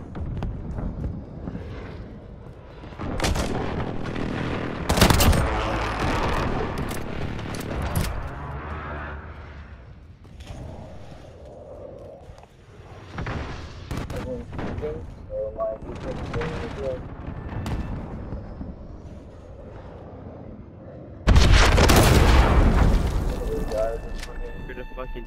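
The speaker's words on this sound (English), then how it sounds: "Enemy precision airstrike. Get down." Explosions and gunfire from a precision airstrike in Call of Duty: Modern Warfare, with repeated heavy blasts and bursts of shots, a loud final explosion near the end, and a player talking throughout.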